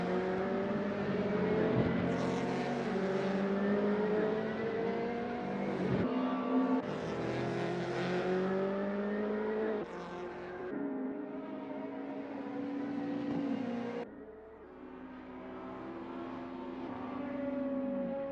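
BMW race car in a SimTC sim racing series, its engine screaming at high revs and climbing through several gear changes, with a dip as it brakes and slides through a corner.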